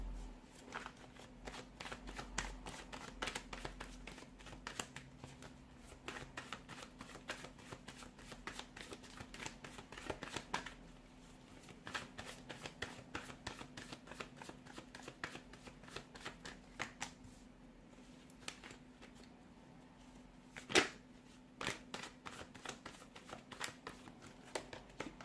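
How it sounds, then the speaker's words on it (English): Tarot cards shuffled by hand in a quiet room, a steady run of soft riffling and flicking for the whole stretch, close up and fairly faint, with no one talking. "let's give the cards a shuffle and let's begin."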